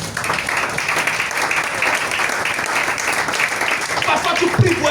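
A church congregation applauds to acclaim the king of kings, a steady dense wash of clapping and cheering voices that holds for the whole stretch without letting up.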